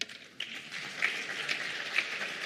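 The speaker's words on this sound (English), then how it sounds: "let's give a big round of applause for our women." An audience at a sustainable industries conference in South Africa gives a round of applause for women, producing soft, distant clapping that stays steady and faint throughout.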